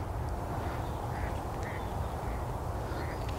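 Ducks quacking in a misty wetland area, several faint, scattered calls over steady broadband wind and ambient noise, fairly distant throughout.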